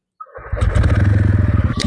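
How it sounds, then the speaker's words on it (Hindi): TVS Ronin motorcycle engine catching on the electric starter after a short whir, then settling into a close, loud, steady thumping idle with a rapid even pulse. "जैसे ही मैं प्रेस करूँगा ये बाइक तुरंत स्टार्ट हो जाती है।"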